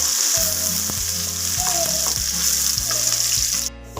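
Onions sizzling in hot oil in a pan for a Punjabi wadiyan and keema dal dish, a loud close continuous crackle with a few stirring scrapes, no voices.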